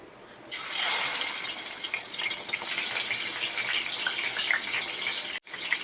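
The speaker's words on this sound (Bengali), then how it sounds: "তো এবার আস্তে আস্তে মাছগুলো আমি কড়ায় ছেড়ে দিই" Rohu fish pieces slide into hot mustard oil in a wok, setting off a loud, steady sizzle that bursts in after a brief quiet start and holds evenly, dipping for a moment near the end.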